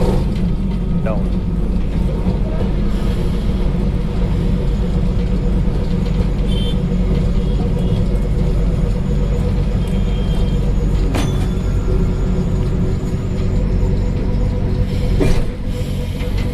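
An AC tram running through Kolkata, a loud steady rumble of the moving car with occasional clanks and squeals, while someone talks over it throughout.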